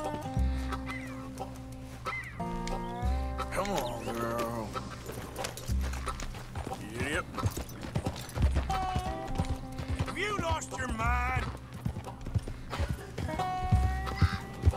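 Horse hooves clop in a steady rhythm with occasional whinnies in the video game Red Dead Redemption 2, under background game music and a person talking.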